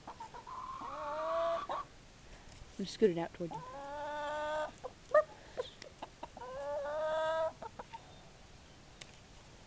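Chickens cluck loudly and close by, letting out drawn-out, throaty bursts in a few separate runs, while a person talks over them.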